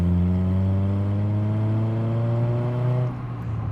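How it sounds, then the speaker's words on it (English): Exhaust of a 2007 Honda Fit GD3 with a muffler delete, a loud raspy drone rising steadily in pitch under acceleration before dropping off abruptly near the end. "There's no reason this car should sound as good as it does with just a muffler delete"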